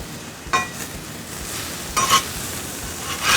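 Green peppers cooking on a hot griddle plate around 350°F, a loud steady sizzle broken by three bursts of spatula scraping and mixing against the metal.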